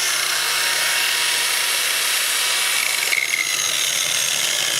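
A SECCO grinder with a diamond disc works fresh precast concrete, giving a loud, continuous high-pitched whine and gritty hiss that stays steady throughout with no talk.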